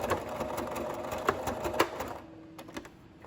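A sewing machine stitching fabric, a close steady mechanical whir with small clicks that winds down and stops near the end, no talking.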